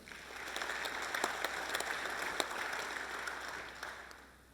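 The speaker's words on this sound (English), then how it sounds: "join me in a round of applause for Baruka Trading Trust" Audience applause for the runner-up at a feedlot carcase competition awards, moderate steady clapping from a crowd in a hall that fades out at the end.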